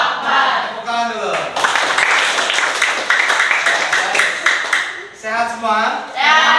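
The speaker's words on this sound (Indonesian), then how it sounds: "Tepuk tangan dulu." A classroom audience claps in a burst of scattered applause lasting a few seconds, with voices speaking before and after it and a cheer mixed in.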